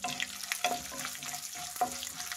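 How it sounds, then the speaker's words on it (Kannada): Chana dal and urad dal fry in hot oil with curry leaves in a pan for a vegetable palya, giving a steady soft sizzle broken by a few brief stirring scrapes and crackles. "ನೋಡಿ, ಕಡಲೆಬೇಳೆ ಉದ್ದಿನಬೇಳೆ ಚೆನ್ನಾಗಿ ಫ್ರೈ ಆಗಿದೆ, ಸಾಕು."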